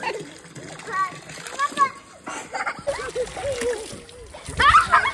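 Water from a hose pipe splashing and sloshing outdoors during a family vacation in Naliya, Gujarat, with children and adults talking and calling out over the steady spatter.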